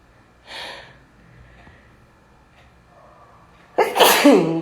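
A single loud, sharp sneeze bursts out near the end after a few quiet breaths and a faint sniff.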